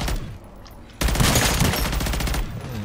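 A level 3 pack-a-punched gun fires in MW3 Zombies, a loud close-up stream of rapid automatic shots that starts abruptly after a softer stretch and keeps rattling steadily.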